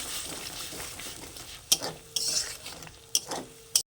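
Spice masala for rui fish rezala stirred after water is poured into the pan: a low bubbling sizzle broken by several sharp clinks of a ladle against the pan, close up, with no talking.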